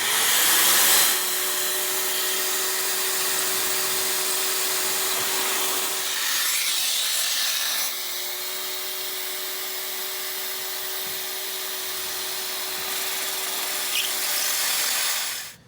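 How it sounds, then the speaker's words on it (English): A power drill whines steadily through wood using a drilling jig, making holes for sawhorse parts, two long passes with a short break between, loud and close with a gritty hiss. "Now it's back to the drilling jig and cutting those holes for the barrel."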